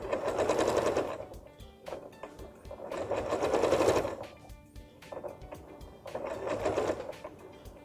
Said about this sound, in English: with the left hand just manoeuvring the fabric so that the seam stays flat and keeping the 2mm on the smaller curve.